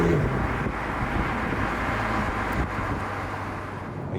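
An Alpine A110S sports car driving gives off a steady broadband roar of engine and road noise. Wind rush sits over it throughout, with no talking.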